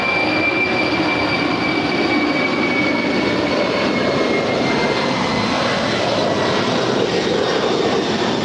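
A Boeing 747 freighter (Atlas Air) takes off from LAX runway 25 right, its jet engines roaring loudly and steadily throughout, with a broad rumbling wash and a faint high whine.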